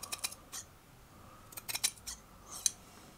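Robuso scissors cutting through technical fabric, giving several quiet, crisp snips in short bursts with brief pauses between them, close up and alone.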